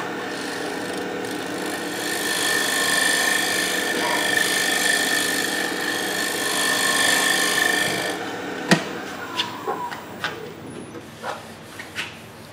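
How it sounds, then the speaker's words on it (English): Scraper cutting the inside of a wooden bowl on a spinning wood lathe: a steady, close scraping hiss over the motor's hum, then the cutting stops and a few sharp knocks and taps follow. "especially if we're going to do the inside of a bowl with a scraper"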